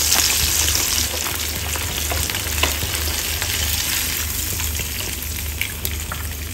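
A piece of chicken fries in hot oil at a steady, close sizzle, a continuous bright hiss with faint crackles and pops throughout and no voices.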